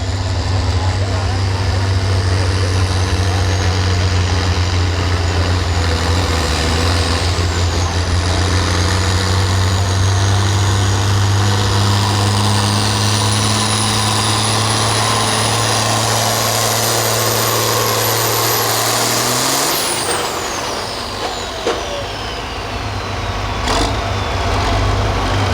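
Farm stock tractor engine roaring at a tractor pull, a loud, sustained diesel drone that holds steady for about twenty seconds before dropping off, with a high rising whine over it and crowd noise in the background.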